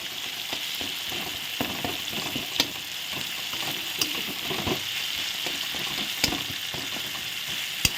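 Tomato paste and spices frying in a pan on a lowered gas flame, a steady close sizzle with occasional sharp pops and stirring scrapes throughout, no talking.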